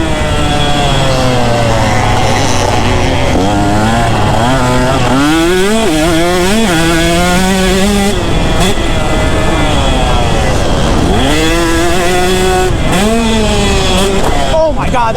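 A 2-stroke dirt bike engine screams loud and close during a jump, its pitch climbing and dropping in repeated revving sweeps as the throttle opens and closes.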